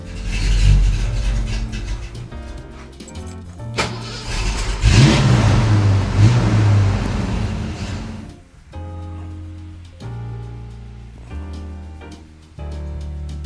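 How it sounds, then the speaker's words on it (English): A Ford Mustang engine running poorly, with rough, uneven bursts of engine noise that rise and fall irregularly, loud and close, stumbling between revs without steady rhythm. "the Mustang has started running really poorly,"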